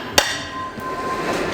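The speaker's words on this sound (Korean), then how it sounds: "망치가 필요해" A hammer strikes a worn, rusty part during car repair on a Chevrolet Spark, landing one sharp, loud metallic blow near the start, followed by a fainter tap and low workshop background.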